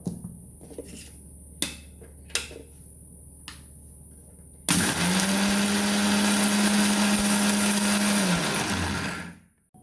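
After a few light knocks and taps, a blender whirs loudly and steadily for about five seconds, blending salad ingredients, then winds down at the end.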